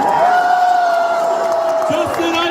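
A crowd at an AEW wrestling event in El Paso cheers and whoops loudly, with sustained shouts ringing through the arena noise and a voice speaking over it.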